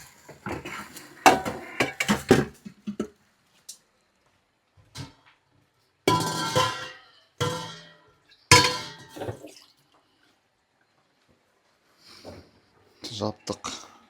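A pot of Tashkent-style pilaf being covered with a large plate, with several sharp ceramic clinks and scrapes in short bursts separated by quiet gaps, while a person talks in between.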